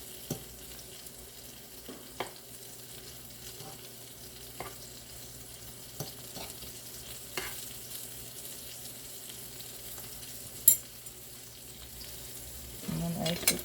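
Butter sizzles steadily in a frying pan, a faint continuous crackle with occasional louder pops and a brief stir near the end.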